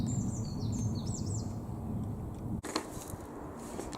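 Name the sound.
pigeons in a field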